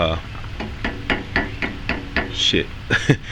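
A hammer strikes metal repeatedly while rivets are knocked out of a truck gas tank strap, a steady series of close, sharp clanks roughly every quarter second.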